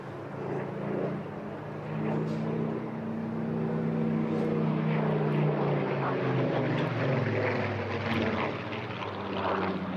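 A Supermarine Spitfire propeller aircraft passes at an airshow at Eastbourne, its piston engine drone rising and falling in pitch as it sweeps by, steady and moderately distant.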